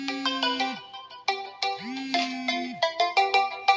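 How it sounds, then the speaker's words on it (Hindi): Phone ringtone from an incoming customer care call for an Al Rajhi Bank account, a loud, close melodic tone in repeating phrases with no talk. "देख सकते हैं यहाँ पे फ़ोन आ चुका है"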